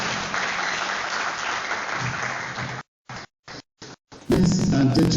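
Conference audience at a university faculty of education event breaks into sustained applause. The clapping is dense, then cuts out in several abrupt gaps before returning loud and full at the end.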